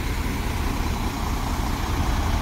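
A truck tractor that pulls trailers idles at a steady low rumble, close and loud, with no change in pitch.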